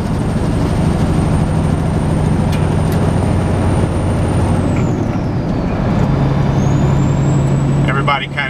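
Flatbed truck cab interior with steady loud diesel engine drone and road noise throughout, a rev dip and rise around a gear change midway, hauling a 43,000 lb crane counterweight; no talk.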